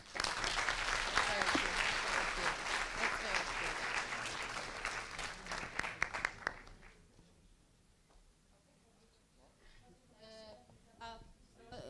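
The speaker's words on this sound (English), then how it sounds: "can we please clap for Lucia for this very impressive presentation" A general assembly audience claps loudly for a delegate's presentation, dense steady applause for about six seconds, then fading to scattered claps as a voice starts speaking.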